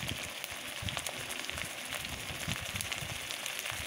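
Shrimp and chopped onion frying in oil in a pan, a steady dense sizzle with scattered pops and crackles, fairly loud and continuous throughout.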